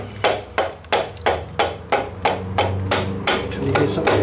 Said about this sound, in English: Gently tap that in